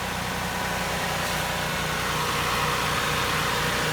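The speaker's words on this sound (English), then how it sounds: "Alright, I just started the vehicle." A Lexus RX300 engine idles steadily after an automatic transmission filter replacement, a continuous low rumble with broadband hum that stays even throughout, no voices.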